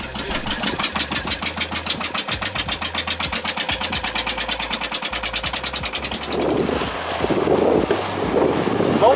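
A boat engine starts up and runs in a fast, loud, even chugging rhythm for several seconds, then gives way to wind buffeting and rumble on the open water.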